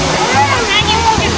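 A waterfall hidden from view gives a continuous rushing, splashing wash of water on a trip in Portugal. Voices talk over it throughout.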